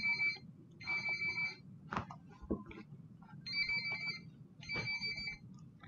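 A mobile phone ringtone during a chemistry class, a faint repeating electronic ring in short bursts with pauses between, over a low room hum and a few brief knocks.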